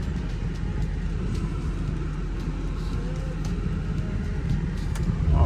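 A 2007 Mercedes SL550 with a coilover conversion drives up over a curb at an angle, giving a steady, close, loud engine and road rumble throughout, with no voices.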